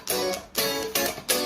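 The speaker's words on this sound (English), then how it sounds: "Yesterday I took my small chord melody and turned it into a funk strumming part." Funk strumming chord part on guitar, four sharp percussive strums in a tight, choppy rhythm, each with a bright attack and brief ring, close and alone.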